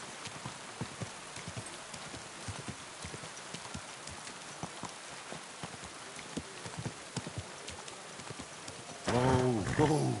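Horse hooves clip-clop in steady, fairly quiet steps through Kingdom Come 2, a rhythmic walking gait over soft ground, ending in a louder burst as a horse snorts or whinnies nearby.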